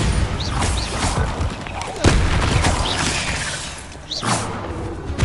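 A Bombarda spell in Hogwarts Legacy sets off crashing, shattering explosions with heavy thumps and debris over a dense, busy game soundscape, with brief swooshing casts in between.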